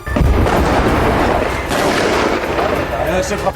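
Loud, continuous gunfire and booming blasts fill the scene in Khan Younis, southern Gaza, a dense chaotic roar of shots with rumbling explosions underneath.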